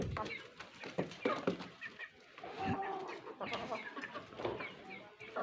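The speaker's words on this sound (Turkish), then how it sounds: "Biri de şuraya gitmiş kahverengi tavuk şurada yiyor" Chickens, including a brown hen, cluck and chatter steadily at close range in a backyard coop, with soft voices now and then in the background.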